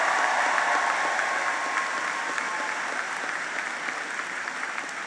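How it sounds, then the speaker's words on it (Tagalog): A crowd applauds the President at a rice aid distribution in Roxas, Capiz, with a sustained roar of clapping that slowly tapers off. "iparinig nyo ang makagibang pamamalakpak sa ating Pangulo"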